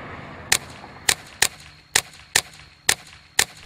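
Seven sharp gunshots from real firearms striking a target board, evenly spaced at roughly half-second intervals, each a crisp loud crack standing out over a low background hum.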